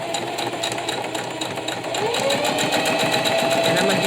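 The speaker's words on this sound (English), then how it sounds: "I'm going to sew all the way, and this is the outer stitch here." A sewing machine runs steadily as it stitches the outer edge of a fabric face mask, a close, continuous whirring hum that picks up slightly in speed and loudness partway through.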